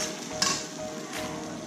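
A ground paste of ginger, garlic, green chili and onion fried in a pan for Kolkata-style chicken kosha: a brief, close, steady sizzle with a couple of stirring scrapes and no voices.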